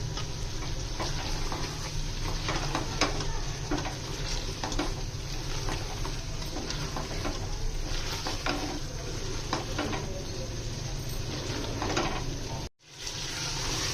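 Chicken with chopped bottle gourd and turmeric sizzles and fries in a pan over a medium flame while a spoon stirs it, a steady crackle with stirring scrapes and no voices, broken by a brief drop near the end.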